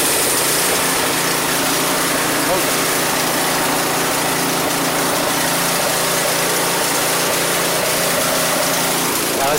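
Troy-Bilt 2620 snow blower engine running on choke after a carburetor cleaning, a steady high-pitched buzzing drone held at a constant level, close and continuous with no gaps.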